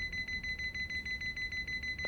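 A heart monitor machine in Yakuza: Like a Dragon beeps in a quick, regular pulse, each bright electronic tone evenly spaced and steady in volume throughout.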